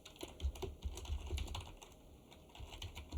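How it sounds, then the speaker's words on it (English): Fast, steady typing on a computer keyboard while entering a physics equation, a close run of soft clicks with a few heavier key strikes, heard alone with no talking. "So I'm just going to type this in,"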